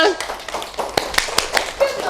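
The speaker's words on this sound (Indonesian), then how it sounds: "tepuk tangan untuk kita semua" Primary school class clapping hands during a coding lesson, a handful of sharp, uneven claps spaced across the moment, close and fairly loud, with children's voices murmuring underneath.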